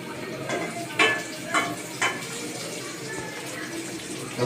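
Curry cooking in a pan, a steady bubbling sizzle with several distinct scraping stirs of a spoon, close by, without talking over it.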